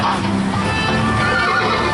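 A horse whinnies at a Universal Hollywood studio tour attraction, a loud, close neigh that runs across the whole short stretch over a busy background.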